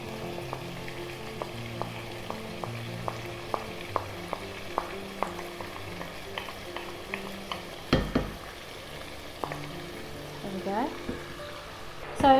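Chicken korma spices fry with yogurt in a pan under a soft, steady sizzle, with repeated light clicks and taps of a utensil and a louder clatter of stirring near the middle and end.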